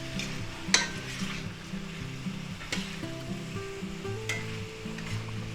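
Canned mushrooms frying in a stir-fry pan with chicken and cucumber, a soft steady sizzle with a few sharp clinks of a utensil against the pan.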